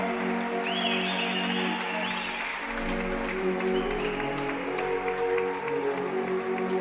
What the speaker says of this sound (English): walk out onto the floor to a round of applause